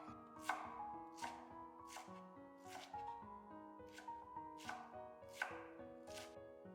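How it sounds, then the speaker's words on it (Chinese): A knife chopping cabbage into thick shreds on a cutting board, about nine crisp, evenly spaced chops close by, with no talking. "最后把包菜全部切成粗一点的细丝"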